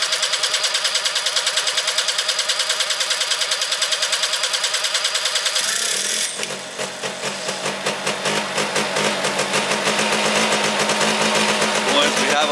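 Honda Cub motorcycle engine from a 30-year-old barn find, newly fitted with electric start, cranking in rapid, even ticks and then catching into an uneven, throbbing idle, close and fairly loud.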